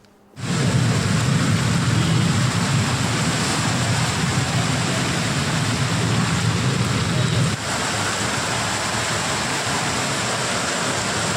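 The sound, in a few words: torrential rain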